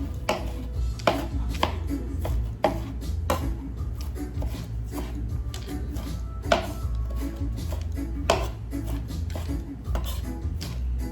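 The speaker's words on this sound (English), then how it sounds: "I'm cutting it with my knife some more so they get more smaller." Grated vegetables for coleslaw being chopped with a knife on a board, irregular loud thuds and taps in quick clusters, close up.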